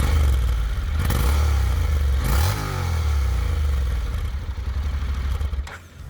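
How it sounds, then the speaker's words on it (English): A Honda NC750X motorcycle engine idles, then revs twice in quick blips, a soft, low exhaust note, near, settling back down afterward. "The exhaust note was nice but on the softer side."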